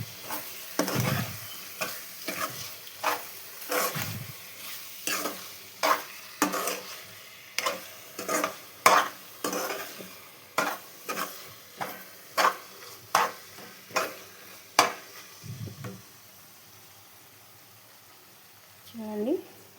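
Eggplant tomato curry stirred with coriander powder in a pan: a regular run of about fifteen scraping stirs at roughly one-second intervals over a soft sizzle, close and steady, with brief bits of talk at the start and end.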